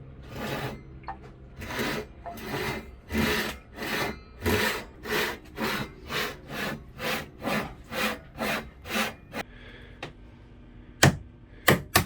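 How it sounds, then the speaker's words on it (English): A hand saw cuts through the wooden fiddle rails on a boat's stove, about sixteen steady back-and-forth strokes close up, then a pause with a faint tone and a couple of final knocks. "we have to cut them off and then trim them off"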